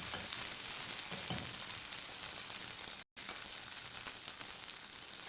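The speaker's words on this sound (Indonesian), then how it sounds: "Di sini saya sudah memanaskan teflon ya untuk memanggang dada ayamnya." Chicken breast fries in a hot Teflon pan, giving a steady, close, bright crackling sizzle with a very brief dropout partway through.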